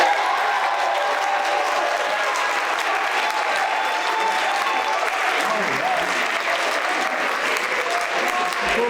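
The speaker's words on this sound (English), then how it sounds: "Let's give it up for Clay." A school story slam audience at McDaniel High School applauds the winner in a steady, dense wash of clapping that holds for the whole stretch, with a few cheers faintly mixed in.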